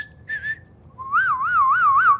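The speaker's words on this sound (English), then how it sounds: "Yeah, I can whistle." Someone whistles alone, a short two-note phrase and then a longer wavering trill that rises and falls, clear and close against a quiet background.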